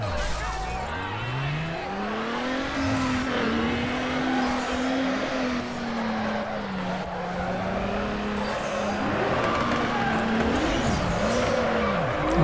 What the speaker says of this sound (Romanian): S-ar putea ca toate mașinile din joc să aibă același sunet la motor